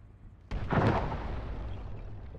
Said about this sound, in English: That was a big explosion right dead in the center